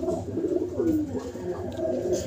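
A young pigeon coos close by in a low, steady, murmuring warble that keeps going without a break, with no talk over it.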